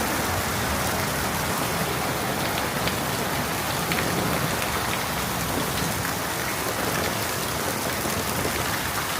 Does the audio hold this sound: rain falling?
yes